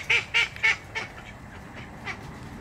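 Ducks give three loud, nasal quacks in quick succession, then a few fainter, trailing calls, close by and outdoors.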